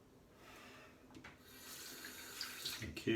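A tap runs into a sink during a straight-razor shave, the water stream starting softly and swelling to a steady splashing rush, close by and moderately loud, ending with a louder gush.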